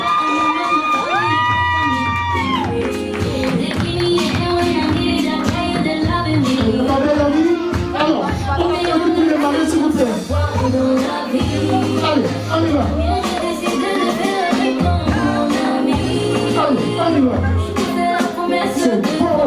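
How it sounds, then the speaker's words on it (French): A wedding crowd cheers, whoops and shouts loudly and continuously over lively music, with excited voices layered throughout. "Maximum d'applaudissements, s'il vous plaît, mesdames et messieurs."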